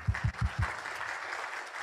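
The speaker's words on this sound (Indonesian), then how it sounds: "Tepuk tangan buat sponsor aktif saya." An audience claps for an active sponsor at a business gathering, starting with four strong, near, rhythmic claps, then settling into steady, moderate applause with no talk over it.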